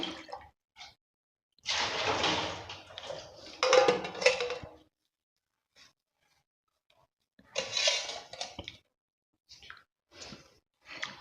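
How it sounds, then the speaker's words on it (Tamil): Water splashes and trickles in bursts over snakehead fish being rinsed by hand, with short quiet gaps between pours. "இப்போ கொஞ்சம் தண்ணி ஊற்றி அதை கொஞ்சம் கழுவி எடுத்துக்கிடுவேன்"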